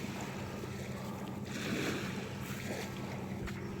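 Waves wash along an Australian beach, a steady, soft rush of surf mixed with light wind noise and no voices.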